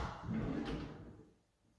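A kitchen drawer in a Montréal apartment for rent slides open or shut, a single soft rumbling scrape up close that fades out quickly.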